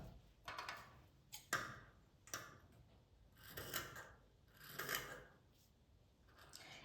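Scissors cut cloth around the neckline of a baby dress, a series of close, crisp snips and rasps in uneven rhythm with short pauses between cuts.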